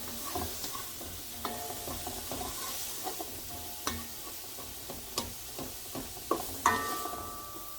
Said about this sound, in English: we're gonna give this a minute to saute and then check back on this in a few.